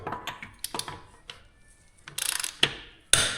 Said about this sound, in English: All we gotta do now is torque the wheels.